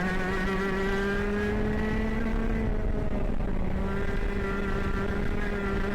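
A ProKart racing go-kart engine screams at steady high revs while driving, a loud, continuous buzzing drone with strong harmonics that dips slightly midway and climbs again, close and unbroken.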